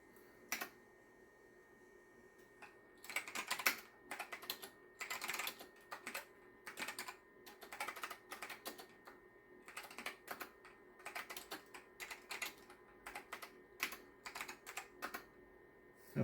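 A PS2 computer keyboard, hooked through an encoder to an Ace 100 computer, clicking in irregular bursts of keystrokes, crisp and close, with short pauses between typed runs and no talk.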